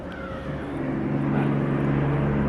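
Loud road traffic out in the Illinois woods during a bowhunt, a continuous low engine roar with a steady hum that builds slightly and holds, no voices over it.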